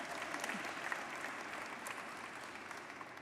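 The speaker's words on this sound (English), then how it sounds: "You can clap for that." An audience applauds steadily at a South Asian Heritage Month celebration, a soft, continuous wash of many hands clapping heard from a distance, holding an even level without a break.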